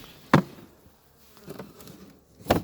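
Honey bees buzz at a hive, with a few short, sharp bursts of buzzing separated by quieter gaps.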